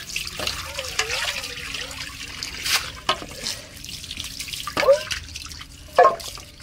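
Tap water left running at a household sink during cleaning before a home function, with a light trickle and scattered drips and splashes, fairly close, under intermittent background voices.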